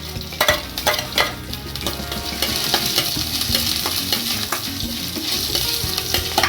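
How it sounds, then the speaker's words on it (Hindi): Chopped ginger crackles and sizzles in hot oil with cumin seeds, a dense steady frying hiss with a few sharp pops and faint stirring clinks, fairly close and with no talking. "अब कटा हुआ अदरक डाल रही इसमें।"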